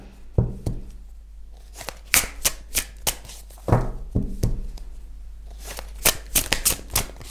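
Tarot cards are shuffled by hand in quick bursts of riffling, slapping and sliding, close and crisp, with short pauses between flurries.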